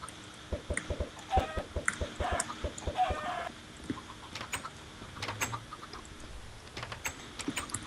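Chickens cluck in the Minecraft Tekkit video game, with short, repeated game-sound calls in loose bursts over several seconds, fairly faint, with no talk over them.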